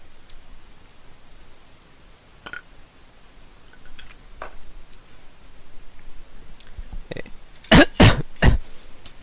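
A few sharp, harsh coughs burst out close by near the end, after several seconds of quiet rustling, from drinking 47.5% Wilkinson gin on the rocks.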